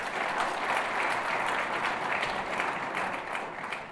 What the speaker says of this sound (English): Let's applaud the professor, please.